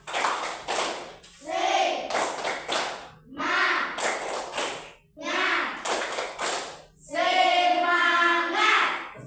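Primary-school class standing in an Indonesian classroom and doing a rhythmic spirit clap together, loud close bursts of patterned clapping mixed with children's chanting voices, in several groups separated by short pauses.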